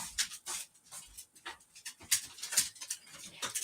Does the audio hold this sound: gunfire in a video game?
no